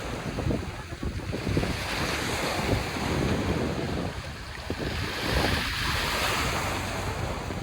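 Sea waves wash and roll continuously under strong gusting wind that buffets the microphone, a loud, dense roar with swelling surges and no talk.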